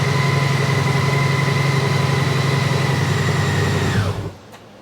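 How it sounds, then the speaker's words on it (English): A Honda Goldwing motorcycle engine running at a steady, close idle with a low even hum for several seconds before it cuts off abruptly and falls quiet. "So my Honda Goldwing is starting."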